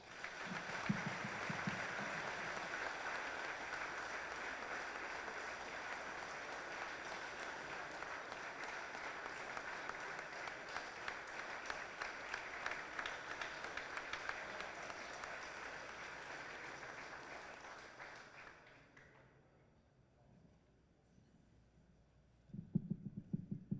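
An audience at a Texas high school football hall of fame induction gives sustained, steady applause for nearly twenty seconds before it cuts off into quiet room hum, then a voice begins.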